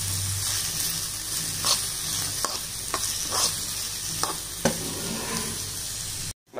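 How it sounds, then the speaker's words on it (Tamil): Chopped onions and tomatoes sizzle steadily in a pan for a village-style fish curry, with several sharp scraping stirs of a spoon cutting through the frying, close and fairly loud, no talking. "தக்காளி நல்லா மசிஞ்சு வர வரைக்கும் நம்ம இதை வதக்கணும்"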